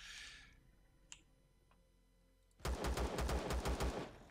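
T2 pistol fire in Empyrion Galactic Survival, a quiet lull with a couple of faint clicks, then a sudden loud burst of rapid, evenly spaced shots in quick succession.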